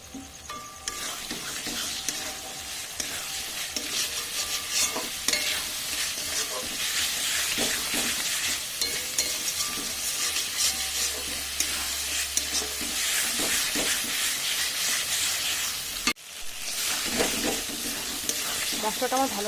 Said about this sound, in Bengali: এবার দিচ্ছি এর মধ্যে আমি টমেটো।